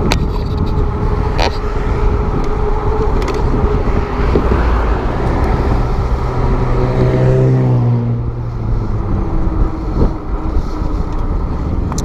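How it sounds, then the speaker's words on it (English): A Lectric XP electric bike rides uphill at moderate pedaling pace, with heavy wind rush and road noise across the whole stretch and a rising motor whine partway through. "I'm just pedaling semi-normal, not trying to gun it or anything."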